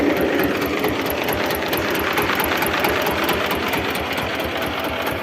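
A single-cylinder mini tractor engine idles steadily, with a fast, even thumping pulse and a constant mechanical clatter, close by and loud throughout.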